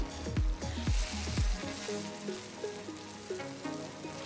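Steady sizzling of onion and ground masala sautéing in a pan, with a few scraping stirs early on, fairly quiet and close, no voices.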